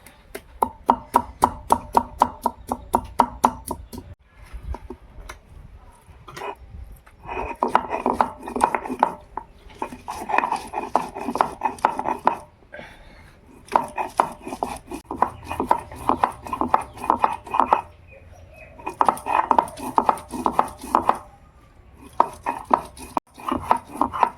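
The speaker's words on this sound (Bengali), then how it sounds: "চিড়ে বেটে নিলাম বন্ধুরা একটু খাটুনি হয়" Flattened rice being ground into a paste by hand with a little water, a rhythmic scraping and rubbing of stone that runs in long bursts with brief pauses, steady and close.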